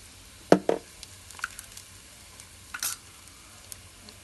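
Cloves and ajwain seeds, added after fenugreek seeds, crackle in a hot pan: a few sharp, close pops and brief faint sizzles scattered over a quiet background.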